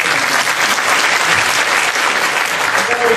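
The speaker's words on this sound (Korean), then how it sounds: "마지막으로 저 수고해주신 여러분들을 위해서 힘찬 박수 다시 한번 부탁드립니다." Sustained, dense audience applause at an architecture forum on hanok, a steady loud clapping that fills the whole stretch without pause.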